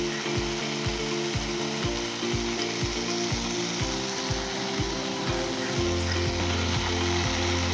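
Tomato and spices sauté in a pan for veg kuska, a loud continuous sizzle with rhythmic scraping stirs throughout and no talking.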